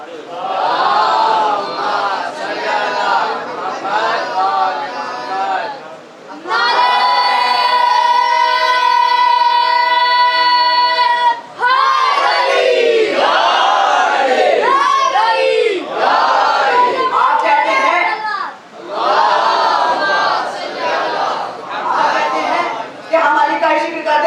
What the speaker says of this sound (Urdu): باوجہ بلند نعرے صلوات